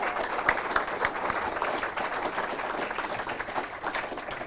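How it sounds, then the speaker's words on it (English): Live audience applause for a band after a performance, a dense, steady roar of many hands clapping that holds at an even level throughout. "I think a round of applause for the band."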